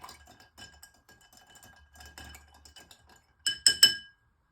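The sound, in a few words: stirring a drink in a glass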